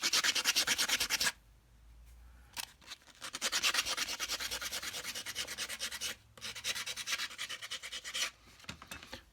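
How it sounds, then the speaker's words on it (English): Wood ends on a black and gold cigar box guitar are hand-polished with 320 grit sandpaper, giving quick rhythmic rasping strokes in close bursts separated by brief pauses. "320 grit sandpaper, and just polish the ends there so they're nice and smooth"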